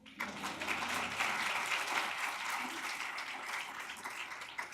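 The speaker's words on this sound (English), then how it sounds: "You guys can actually clap for that." Audience at a women's philanthropy summit applauds steadily for several seconds, a dense, even wash of many hands clapping with no talk over it.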